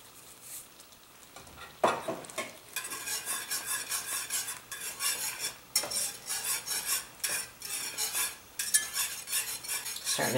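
A spoon scrapes and stirs thickening chicken pot pie filling in a pan, close and steady, with repeated rhythmic strokes and soft sizzling beneath.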